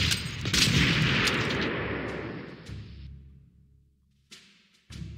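Artillery fire in the World War II strategy game Panzer Corps, set around Oslo in 1939: a loud booming volley with crackling blasts that trails off into a long fading rumble, then two short sharp reports near the end.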